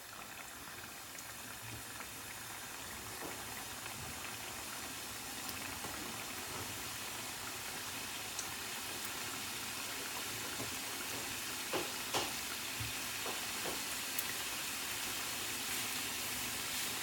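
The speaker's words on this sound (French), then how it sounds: "Je plonge mes gâteaux dans l'huile préalablement chauffée." Chebakia cakes, a Moroccan pastry, fry in preheated oil with a steady, hissing sizzle that holds for the whole stretch, dotted with small crackles and pops and no voices.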